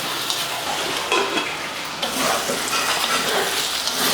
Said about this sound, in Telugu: మనం దగ్గరుండి ఒక 2 మినిట్స్ ఫ్లేమ్ హైలో ఉన్నా చక్కగా ఇలా కలుపుకుంటూ వేయించుకోవచ్చు